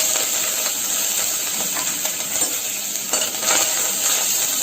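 Asafoetida and curry leaves sizzle loudly in hot oil for sambhar, a steady bright frying hiss with occasional stirring scrapes and no talk.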